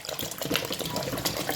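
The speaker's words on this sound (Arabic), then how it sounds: "وغادي نزيد عليهم لتر ديال الماء" Water from a tap pours into a pot holding two kilos of sugar, a litre for making a honey-style syrup; a steady, close gushing stream runs alone through the whole short stretch.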